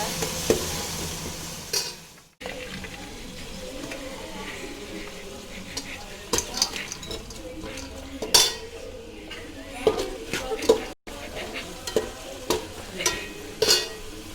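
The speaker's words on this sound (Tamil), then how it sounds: "இஞ்சி பூண்டு பேஸ்ட்டு நல்லா வதக்கிக்கோங்க." Ginger garlic paste sautéing in a pan, heard up close as a soft sizzle under repeated metal clinks and scrapes of a spoon against the pan, with a brief sharp knock and a short pause partway through.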